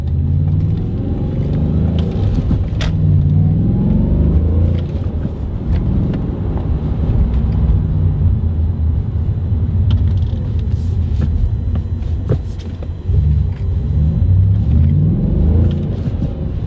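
Audi B7 RS4 driving with a sticky clutch pedal at high rpm, its engine rumbling steadily and close throughout, with rises and dips in pitch as it accelerates and shifts through the gears.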